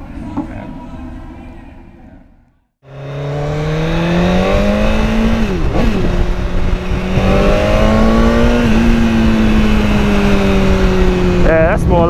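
A Yamaha MT10 (FZ10) motorcycle engine pulls hard on a small track after a brief cut, its loud, close exhaust note rising steadily and holding high with slight dips, continuous for about nine seconds.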